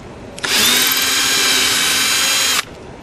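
A power drill whines steadily for about two seconds at close range, drilling into the wood of an antique chair, starting and stopping abruptly, with no talking.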